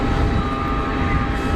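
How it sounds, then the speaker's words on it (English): Emirates Boeing 777 jet taxiing out at Geneva Airport, a steady broadband engine roar with a faint whine, continuous and fairly loud throughout. "With Emirates triple taxiing out to"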